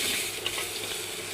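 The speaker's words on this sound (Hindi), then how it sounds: "थोड़े बनते हैं ना घी में, अभी ये भुनाई कर रहे हैं।" Bitter gourd (karela) fries in ghee with a dense, steady sizzle and faint crackle, close up and without speech.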